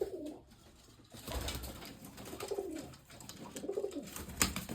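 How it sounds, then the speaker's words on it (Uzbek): Teddy breed pigeons of a Dubai line coo repeatedly in soft, low, rhythmic phrases from a close loft, with faint rustling between calls and no talking. "Kaptarlar hammasi zo'r."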